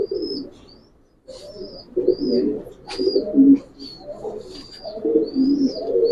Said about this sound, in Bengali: মাশাআল্লাহ অনেক সুন্দর কবুতর